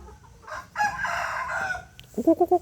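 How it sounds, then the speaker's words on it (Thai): A young Burmese rooster gives one close, scratchy crow, followed by a few quick clucks. "จุดนี้ก็ไก่เด็กนะครับ"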